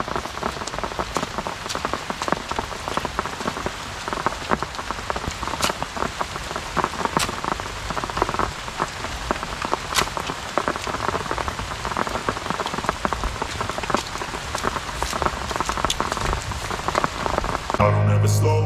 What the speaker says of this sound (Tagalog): Wala po yata ang balak tumigil yung ulan.